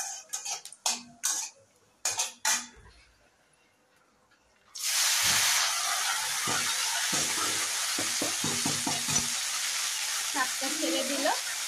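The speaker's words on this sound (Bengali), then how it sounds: "অল্প কালো জিরে সম্বারা দিয়েছে, একটা শুকনো লঙ্কা ছিঁড়ে ছোট ছোট করে সম্বারা দিয়ে দিল" Nigella seeds and torn dried red chilli tempering in hot oil for dheki shak greens, a loud steady sizzle that bursts in after a few quiet clicks and knocks, with faint stirring scrapes underneath.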